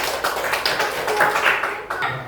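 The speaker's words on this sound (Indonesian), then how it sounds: "Oke, tepuk tangan dulu untuk kelas." A classroom of students claps hands together in a short, quick burst of scattered claps lasting a couple of seconds, close and fairly loud.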